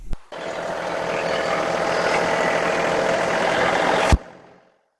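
A John Deere tractor engine runs steadily at a raised throttle while lifting a load, giving a loud, even mechanical drone for about four seconds that then cuts off sharply.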